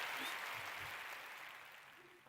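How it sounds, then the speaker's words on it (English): Audience applause for a podcast host, a broad wash of clapping that slowly fades and thins over its length, with faint low murmurs beneath. "I hear the applause."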